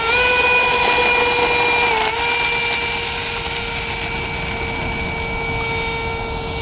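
An electric ducted fan in an RC F-16 model jet fitted with a new motor whines loudly and steadily nearby, its high tonal pitch dipping slightly about two seconds in, then holding.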